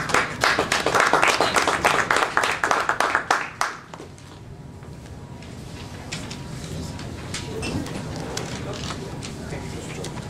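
Audience at a community parking meeting claps in a dense burst of applause for a few seconds, then it fades out into room murmur and quiet background noise.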